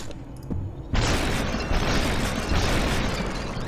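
Gunshots in the game SUPERHOT: a loud, dense burst cuts in about a second in and holds as a sustained roar, with further bursts stacking on top through the rest of the clip.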